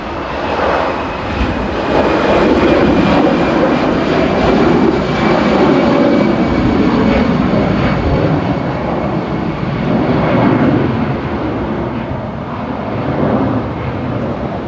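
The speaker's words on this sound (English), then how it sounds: "There goes the Eurowings Fan Airbus, heading back to" A Eurowings Airbus airliner takes off at Manchester Airport, its jet roar loud and sustained, swelling and slowly fading as it climbs away, with no voices over it.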